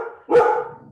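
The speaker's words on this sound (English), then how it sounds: "Oh, sorry, my dog scared me." A single loud, close dog bark bursts out sharply and rings briefly before fading, right after a voice trails off in an indoor room.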